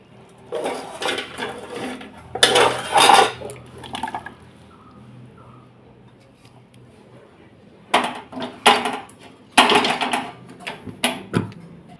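A cooked vegetarian drumstick and rice dish is scraped and poured out of a pan, heard as bursts of close clattering and scraping separated by quiet gaps.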